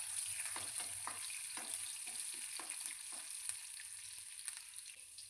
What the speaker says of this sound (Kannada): ಈಗ ಮೆಣಸಿನ್ಕಾಯಿ ಸ್ವಲ್ಪ ಫ್ರೈ ಮಾಡ್ಕೊಳ್ಳಿ.